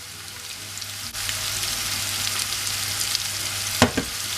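Zucchini with onion and garlic, seasoned with salt and black pepper, frying in a pan: a steady, fairly loud sizzling hiss starts abruptly and holds, then a brief clatter of stirring comes near the end.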